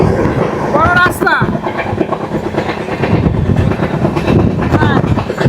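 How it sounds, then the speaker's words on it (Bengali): A train rushing at speed over a bridge near Bagrakot in West Bengal's hills, a loud continuous rumble with rhythmic clatter of wheels on rails throughout, while a voice talks over it. "ব্রিজ থেকে ট্রেনটা যাচ্ছে, দ্রুত গতিতে ট্রেন যাচ্ছে"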